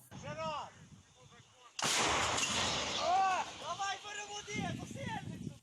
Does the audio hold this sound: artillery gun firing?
yes